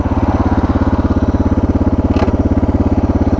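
A Suzuki DR650 motorcycle with a modified exhaust and an adjusted carburettor idles loud and close. Its even, rapid thumping pulse holds steady throughout, with a brief hiss partway through.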